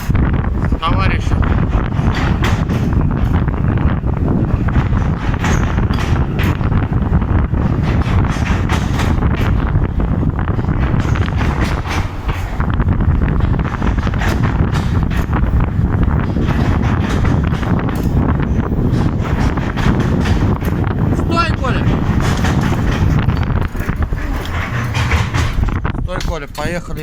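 Steady, loud wind roars against the microphone throughout a ride down into a mine, with a low rumble of the moving lift or vehicle underneath and voices talking at moments.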